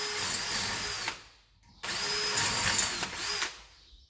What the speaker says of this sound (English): We'll drill our 1/4 inch holes for our